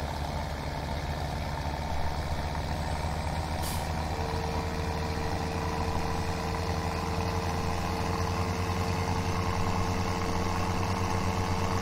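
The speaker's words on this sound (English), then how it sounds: "I love this tractor, but it's got no poop to it." A tractor engine drones steadily in Farming Simulator 17 while pulling a windrower, a constant low mechanical hum with a faint tonal whine joining partway through and no talking.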